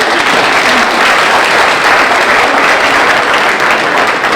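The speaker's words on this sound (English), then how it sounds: "give them a round of applause" Loud, dense applause from the audience at a 2019 State of the City Address, sustained and even throughout, close to the microphone.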